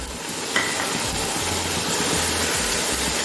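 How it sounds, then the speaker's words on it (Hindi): Ground red chilli and coriander powder fry in a pot for an Aloo Matar Pulao, giving a steady broadband sizzle and hiss with a faint clink of stirring early on. "अच्छी तरह 2 से 3 मिनट तक इन्हें भी भून लेंगे"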